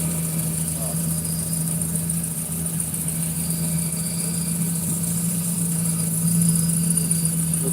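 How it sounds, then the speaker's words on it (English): A boat engine that won't stay running idles with a steady low hum and a constant high whine, droning evenly throughout without speech. "And the way it's idling is crazy."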